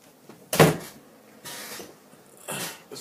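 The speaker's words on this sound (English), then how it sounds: "Let me close this door." A door is pushed shut indoors, a sharp close thump followed by two softer knocks and rubbing sounds as it settles, spaced out against near silence.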